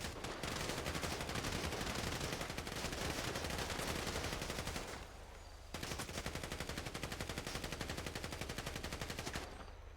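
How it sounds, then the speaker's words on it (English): Rapid, sustained gunfire at targets on an outdoor shooting range, a loud dense stream of shots that breaks off briefly halfway through and then resumes just as fast, with no talk over it. "Do you want to shoot them at the same time?"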